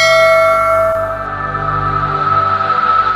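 A bright notification bell chime rings out loud and alone, its sustained tones ringing steadily and fading slowly over about three seconds.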